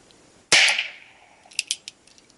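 Ruger Wrangler revolver firing a 40 grain Mini Mag .22 round, a single sharp crack with a brief ringing decay, followed by a few faint clicks and taps, outdoors and close.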